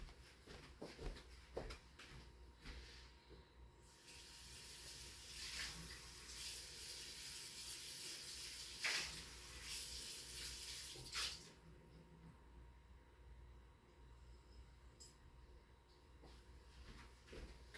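Tap water running into a sink while an item is washed under it, a soft hiss that swells and rises in the middle with a few clunks and knocks, faint and close.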